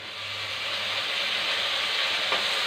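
Tomatoes are tipped into a frying pan over ginger-garlic paste and sizzle, a steady, bright, close hiss that swells slightly as it continues, with no talking.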